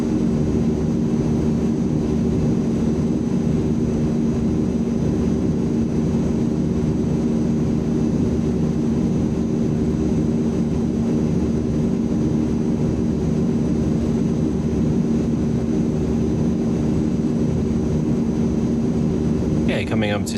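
Azurpoly C-160 Transall turboprops in cruise in MSFS 2020, a constant loud droning hum with steady tones, unchanging throughout, with a voice talking over it.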